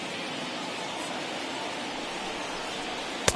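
A huge stadium crowd of over 39,000 roars to its feet in the MLB The Show 21 baseball game between the Rays and Yankees, a dense, continuous wash of cheering with a brief sharp accent at the very end.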